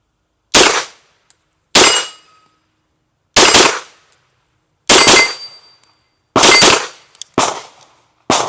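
A Stribog SP9A3 9mm pistol-caliber carbine fires about seven loud, sharp shots at irregular intervals, each a close, crisp crack with a short ringing decay and silence in between.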